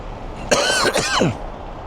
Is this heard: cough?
yes